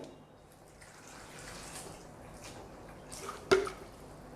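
RO water pours into a bowl of vegetables, a soft splashing trickle at low level that builds slightly before a sharper splash near the end, close by and quiet.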